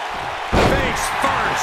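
A face-first slapjack at an indie pro wrestling show: one loud, sharp slam thuds onto the ring mat about half a second in, with crowd noise rising around it and a commentator speaking over the arena.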